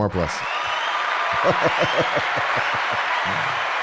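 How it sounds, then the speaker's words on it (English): A studio audience claps in a brief burst of applause, a rapid run of close, sharp hand claps that fades out after a few seconds. "More applause."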